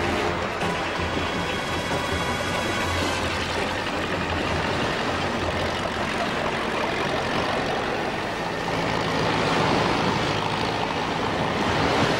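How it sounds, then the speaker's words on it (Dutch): Tractor engine, taking over heavy work from horses for a lifeboat service, runs as a steady loud low rumble with constant drone throughout, no talk. "De trekker neemt het zware werk van de paarden over."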